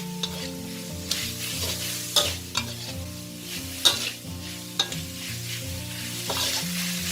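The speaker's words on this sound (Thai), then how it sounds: "เราผัดเขาค่ะ ให้ส่วนผสมทุกอย่างเข้ากันค่ะ" Stink beans and pork belly are stir-fried in a pan, a loud, continuous sizzle punctuated by repeated scraping strokes of a spatula, with faint background music and no speech.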